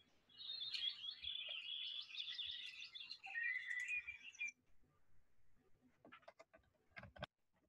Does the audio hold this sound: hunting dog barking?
no